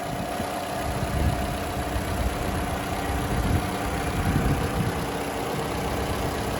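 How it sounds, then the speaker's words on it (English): A 2018 Toyota RAV4 engine idles steadily nearby, a low continuous rumble with a faint hum and slight fluctuations, no voices. "As you can hear, mate, I do have the car running."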